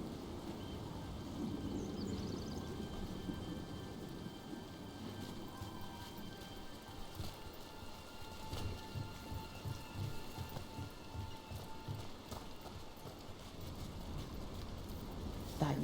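Steady rain pattering on surfaces with low rumbles of thunder, heard as ambience in the video game Dragon Age: The Veilguard, continuous and moderately loud throughout the scene.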